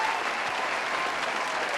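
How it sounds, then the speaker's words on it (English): Crowd applause for Stone Cold Steve Austin in the WWE 2K wrestling video game, a steady wash of many clapping hands in a large arena, even and sustained throughout. "A round of applause for Stone Cold."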